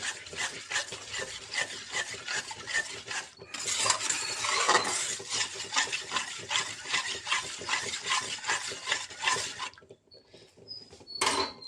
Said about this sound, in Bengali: আগে এখানে মিশিয়ে নেবো তারপর আছে বসাবো